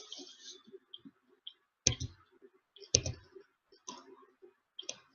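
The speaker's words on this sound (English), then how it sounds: "click on the profile" A computer mouse clicks sharply a few separate times up close, with quieter faint ticks in between and no talk.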